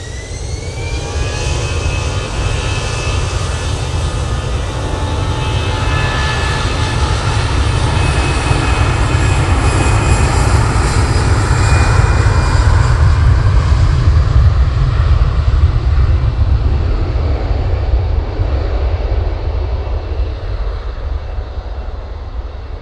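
An EasyJet jet airliner takes off for Alicante, its engines roaring loud and steady for the whole stretch, a broad rumble with a whining tone that slowly falls away as the aircraft recedes, with no talk over it.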